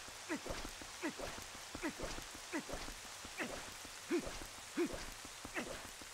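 Cold rain hisses steadily over Hyrule Castle in The Legend of Zelda: Twilight Princess HD, while short rhythmic tonal blips repeat about every second on top of it.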